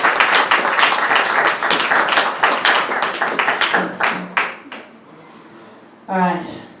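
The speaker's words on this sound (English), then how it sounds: "Give the applause round to Charlie Ruffin" An audience at an open-studio poetry evening claps for a poet, a lively burst of many hands that thins out and fades after a few seconds, followed by a brief spoken voice.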